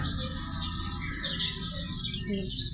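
Sparrows chirp and twitter in quick, overlapping calls against a faint background hum, fairly distant and continuous.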